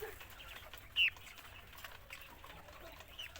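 A single short, sharp chicken cluck rings out close by over a quiet, low background hum, with no other calls and no talk.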